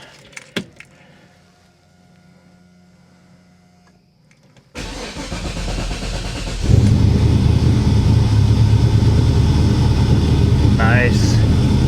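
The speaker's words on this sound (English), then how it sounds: "All right, cold start time." A 1940 Chevy hot rod engine cold-starts after a quiet lead-in with a few clicks, catching abruptly and settling into a loud, steady, close-up idle that grows fuller and keeps running to the end.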